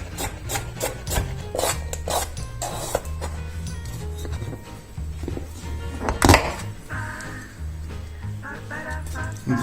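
A carrot is peeled and then cut into fine little pieces for a beef stew with corn and vegetables, giving steady rasping scrapes and rubbing strokes with an occasional knife thunk, close and continuous.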